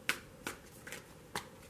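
A tarot card deck is shuffled briefly by hand, giving four soft, quick riffling snaps at uneven intervals, quiet and close, with no talking.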